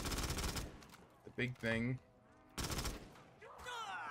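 Rapid automatic weapon fire in Call of Duty Zombies on the custom Lighthouse map, arriving in two loud bursts with someone talking in between and game sounds trailing after.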